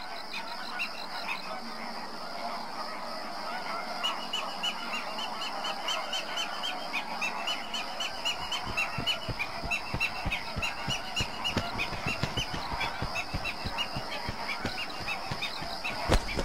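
Greater flamingo flock calling at Fuente de Piedra lagoon in Andalusia: a dense, continuous chorus of goose-like honks and gabbling, with a rapid patter of splashing or stamping joining in halfway through.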